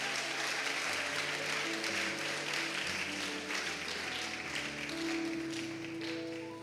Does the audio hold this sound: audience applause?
yes